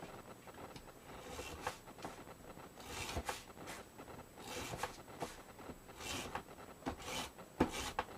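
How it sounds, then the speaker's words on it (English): A hand-held tape runner lays adhesive around the edge of a cut paper piece for a mini album, giving faint, repeated short rasping zips and rubs in an irregular rhythm close to the microphone. "So I'll just do my tape run around this piece of paper that we cut down."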